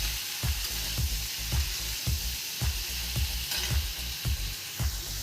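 Potato and pointed gourd curry sizzling in a pan while being stirred, steady frying hiss punctuated by regular, evenly spaced scraping strokes of the spoon, close and moderately loud with no talk.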